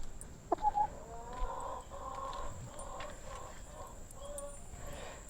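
Backyard chickens clucking in a rhythmic, continuous series at moderate distance, with a short sharper squawk near the start and steady low background noise throughout.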